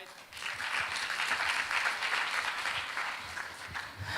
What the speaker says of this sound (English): please give applause one more time again for Associate Professor Dr. Elisa Nasruddin.